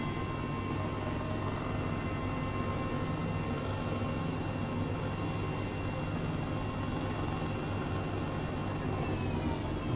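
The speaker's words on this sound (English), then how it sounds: "Engine 2 spooling up." An H135 helicopter engine in Microsoft Flight Simulator spools up as a steady, loud turbine roar with a high whine running evenly through the whole stretch, with no talking.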